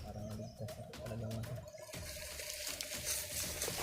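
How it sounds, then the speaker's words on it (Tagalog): A strange bird in a forest gives low, soft cooing calls that repeat over a constant background hiss and faint trickling water. "Kakaibang ibon to nakita ko."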